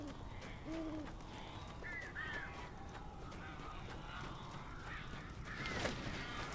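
Crows cawing in the Alan Wake video game, a few scattered harsh calls from a distance, faint over a constant ambient background rumble.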